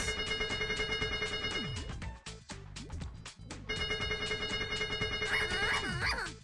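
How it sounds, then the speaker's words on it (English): Chuzzles in the Chuzzle video game squeak with joy: bright, chirpy, ringing electronic squeaks and jingles over busy game music, moderately quiet and layered. "They're like squeaking with joy."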